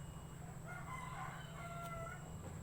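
A rooster crows faintly in the distance, a couple of drawn-out calls over a steady low hum and outdoor background noise.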